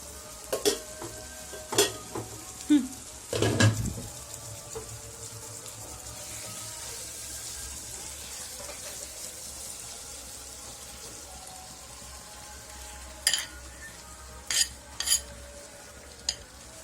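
Spices stir-fry in oil for a fish head curry, a low steady sizzle running throughout with sharp clinks of a spoon against the pan clustered near the start and again toward the end.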